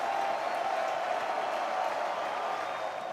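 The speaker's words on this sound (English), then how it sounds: "This crowd into it right now, coming to their feet" A baseball crowd at a UTSA vs Texas game cheers and applauds steadily as fans rise to their feet, a dense, sustained roar of clapping and voices that holds at an even level throughout.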